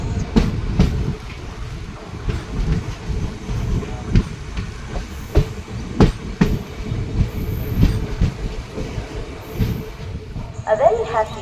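The Tutari Express train departs Vaibhavwadi Road station, giving a steady rhythmic clatter of wheels on rail joints with heavy low rumble, heard from on board, with a brief high chime near the end.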